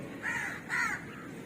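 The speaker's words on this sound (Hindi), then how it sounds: "ये कौवे।" A crow gives two clear caws in quick succession, moderately near and alone, after a storm in Rajasthan.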